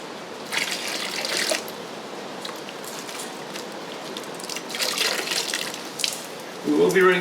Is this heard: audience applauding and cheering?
no